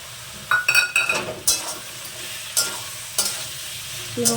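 A tomato curry with small fish is stirred and mashed in a pan: sharp scraping strokes of a spoon in uneven bursts over a soft frying sizzle, near and fairly loud.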